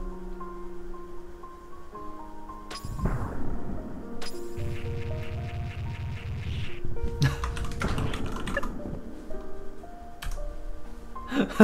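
Typing on a computer keyboard, with scattered quick clicks and taps mixed in among electronic game music and sound effects, moderately loud and close.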